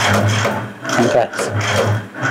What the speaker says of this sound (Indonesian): Jadi ini proses pengetapan. Yang tadinya 100 mili nanti dia akan kemudian mampat menjadi berkurang.